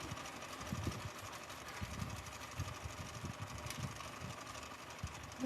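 A slow sewing machine runs steadily while a dress is being repaired, a low continuous whirring hum with faint rhythmic knocking and no pauses.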